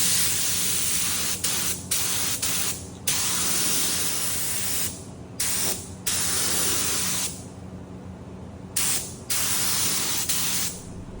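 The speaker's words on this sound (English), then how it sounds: "And I could spray this over here. It's a lacquer primer" A spray gun laying lacquer primer onto a nightstand, loud close hissing bursts that start and stop in several passes of varying length, with quieter gaps between them.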